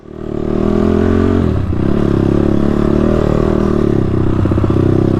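A home-built motorcycle ridden out along trails roars loudly and close by, a steady engine drone with a brief dip in the throttle partway through, and no voices.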